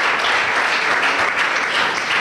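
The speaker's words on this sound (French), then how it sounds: "On peut acclamer le Seigneur pour papa." A church congregation applauds God in a sustained burst of dense, steady clapping that fills the space, loud and continuous with a faint murmur of voices underneath.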